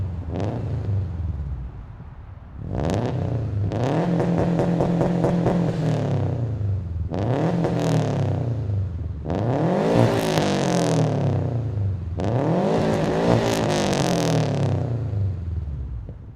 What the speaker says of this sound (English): you should get a lot of exhaust noises